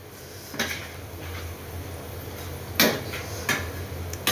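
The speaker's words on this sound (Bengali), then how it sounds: "ফ্রেঞ্চ ফ্রাই উল্টানোর জন্য আসলাম।" French fries being flipped in a pan in a home kitchen, heard as a few sharp metallic clinks and scrapes spaced over several seconds against a quiet low background.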